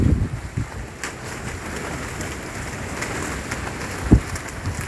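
Heavy rain on a barge in rough sea at Claxton Bay, a loud steady hiss of rainfall with wind buffeting the microphone and occasional thumps.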